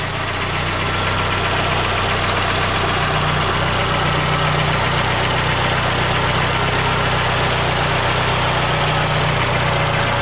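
The 1.6 petrol engine of a VW Golf 5 nearing 200,000 km idles steadily and loudly close by, a continuous even hum with a faint rhythmic tick and no pauses.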